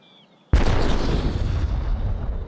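A giant gunpowder siege cannon fires once after a quiet moment, giving a sudden massive boom followed by a long rumbling decay that fills the remaining seconds.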